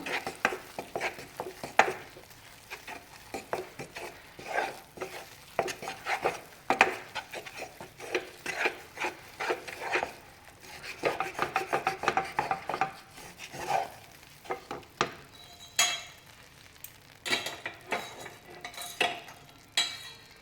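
Mysore pak mixture bubbling in hot ghee while being stirred, with a continuous crackling sizzle and repeated irregular scraping strokes of a spoon against the pan, close and fairly quiet.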